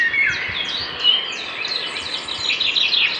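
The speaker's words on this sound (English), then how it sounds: "the birds are chirping without any drops coming from the sky" Several birds chirp and tweet in quick, overlapping high calls after a thunderstorm. They sound fairly close and clear, with a faint hum of insects underneath.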